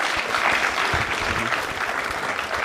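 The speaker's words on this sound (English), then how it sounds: "Give him a round of applause." An audience at a live show applauds, a dense, sustained wash of clapping from many hands that stays fairly even in loudness from start to finish, with no voices over it.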